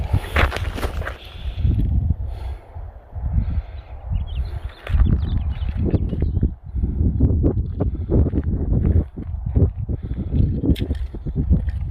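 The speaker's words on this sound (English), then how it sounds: "here comes the wind." Gusty wind buffets the microphone on a desert hiking trail of the Pacific Crest Trail, loud low rumbling gusts that rise and fall, with faint rustling and scuffing steps mixed in.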